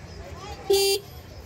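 A child's ride-on toy car gives one short electronic horn beep, a clear tonal toot lasting about a quarter second over quiet background.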